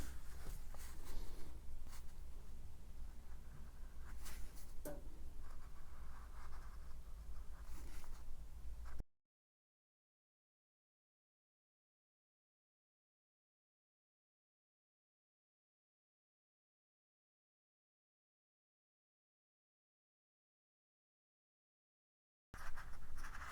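A yellow colored pencil scratches steadily across paper while a hand-drawn illustration is colored in, close and fairly quiet, then a long stretch of silence before the strokes briefly resume.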